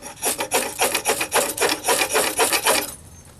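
Knife scraping shavings off a stick of pine fatwood, about a dozen quick rasping strokes in steady rhythm, close and fairly loud, then stopping into quiet.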